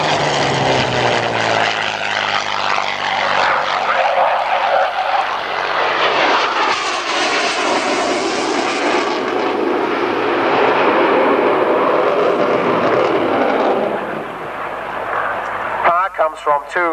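Swing-wing jet aircraft with two Rolls-Royce engines flying past, a loud sweeping roar with shifting pitch that swells and then fades, with a voice talking over the end.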